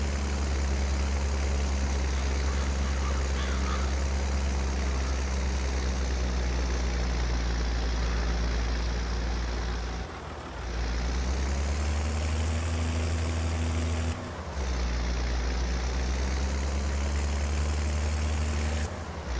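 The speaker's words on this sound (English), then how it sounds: "Kind of interesting how the tractor struggles with this going up the hill" Tractor engine from Farming Simulator 22 labouring uphill with a seed box in its bucket, a steady heavy low drone that dips briefly twice and then resumes, loud and continuous with no talk.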